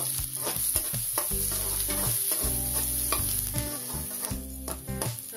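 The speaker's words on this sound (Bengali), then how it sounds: "এই অল্প তেলে আমি সবকিছু এখন হালকা ফ্রাই করে নেব।" Onions and green chillies fry in a little oil for vegetable fried rice, a crisp sizzle broken by busy, rhythmic scraping stirs and metallic clanks of the utensil against the pan.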